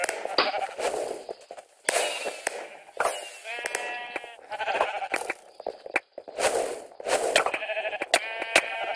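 Repeated bleating from Minecraft sheep during a Sheep Quest minigame, with overlapping wavering baas arriving every second or two, close and loud over clicks, thuds and other game sounds.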